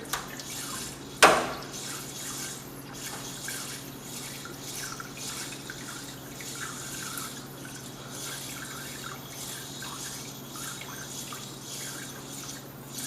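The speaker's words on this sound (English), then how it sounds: "Is it pumping? Yeah, that's pumping." A swamp cooler water pump runs, giving a faint steady trickle and dripping of water over a low mechanical hum, after a sharp knock near the start; no one speaks.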